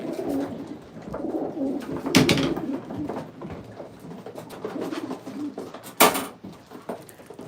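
Pigeons cooing softly and repeatedly nearby, with a couple of sharp knocks or clatters in between.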